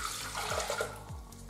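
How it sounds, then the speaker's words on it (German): Water is poured into a Thermomix bowl while making pumpkin bread, a short steady splashing trickle with a few gurgling drops, close by and fairly quiet. "350 Gramm Wasser"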